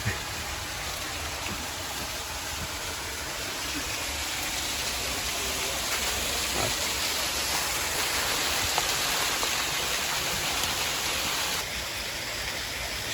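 Moss Rock waterfall heard from inside a cave, a steady broadband hiss of falling water with an even, hollow roar that holds constant throughout, with no voices.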